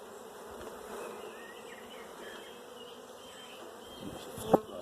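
Honeybees buzz steadily around a brood frame at an apiary, a close, continuous hum with a brief sharp tap near the end.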